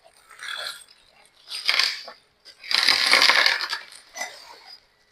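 A plastic bag of solar pump kit accessories, screwdrivers, bolts and nuts, rustled and shaken in bursts, with metal parts clinking and crinkling close by between brief quiet pauses.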